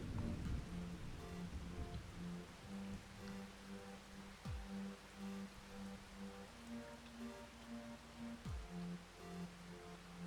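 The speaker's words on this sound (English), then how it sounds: "Oh, rainstorm." Rainstorm in the video game Farming Simulator 25: a soft, steady patter of rain on surfaces with a faint low rumble and some tonal background sounds, quiet and continuous.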